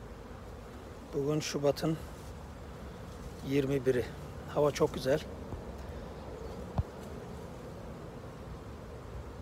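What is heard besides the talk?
honeybees buzzing around hive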